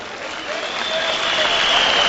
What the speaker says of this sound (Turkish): Alevi Dernekler Federasyonu'nu alkışlarla vuruyoruz